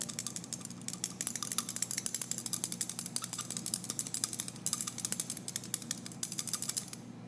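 A glass test tube of acetylsalicylic acid in ethyl acetate gets stirred vigorously, a rapid run of small clicking, scraping ticks repeating steadily for several seconds, close and fairly quiet, with no talk.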